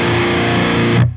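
A Peavey amp pushed to high-gain metal distortion roars with a single loud, sustained guitar chord that rings out for about a second before being cut off sharply.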